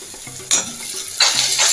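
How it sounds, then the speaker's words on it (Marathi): Chopped tomato and onion being stirred and sautéed in a pan for egg bhurji, with a steady sizzle that surges loudly twice as the spatula turns the mixture. "टोमॅटो कांद्याबरोबर चांगला परतवून त्याला शिजायला देऊ"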